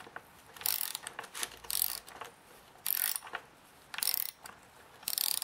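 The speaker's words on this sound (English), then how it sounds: "I'm going to switch it out for the bigger extractor from the kit." A stud extractor turns a broken bar stud out of a Stihl chainsaw, making quiet, close ratcheting clicks in short bursts separated by pauses.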